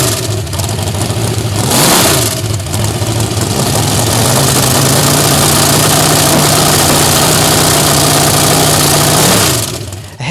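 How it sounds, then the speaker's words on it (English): A Cub Cadet tractor fitted with a 1969 Mustang engine runs loud and close, revving up briefly near the start and then holding a steady, throaty drone before the revs drop at the end. "I took the motor out, and I put it into the Cub Cadet"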